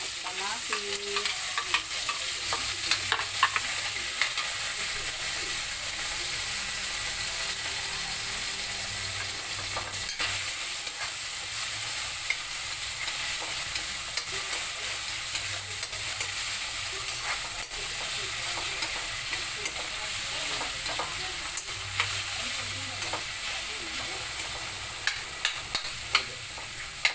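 Onion and tomato sauté together in a pan with shrimp nearby, a continuous close sizzle with frequent scraping stirs and occasional clatters, no speech over it.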